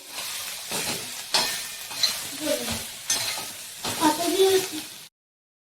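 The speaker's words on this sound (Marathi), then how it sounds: "आता हे सर्व मसाले हलवून घेऊ" Spices being stirred into a soya vegetable curry in a pan, four or five distinct rounds of spoon scraping and clinking over a light sizzle, close-up and fairly quiet.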